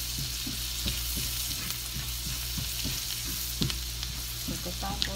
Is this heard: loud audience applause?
no